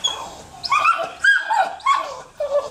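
A dog with aggression issues charges at another dog, letting out loud, close yips, whines and barks in an excited, continuous rush.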